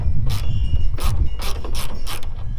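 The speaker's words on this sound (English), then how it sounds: "5/16 socket here to take this off" A ratchet with a 5/16 socket works taillight screws loose on a 1999-2016 Ford F250. It makes rapid clicking bursts in a steady rhythm, close and loud, with no talking.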